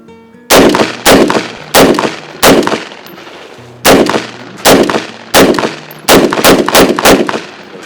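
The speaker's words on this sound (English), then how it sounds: "Slow your shots down." Loud gunshots fired on an outdoor shooting range, about a dozen sharp reports in uneven bursts with brief pauses between groups, close and ringing, with no talk.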